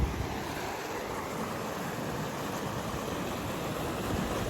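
Steady rushing water of a stream at Hat Na Yao, Xaignabouli, fills the clip, a continuous broadband wash with a breezy, open-air quality and no voices.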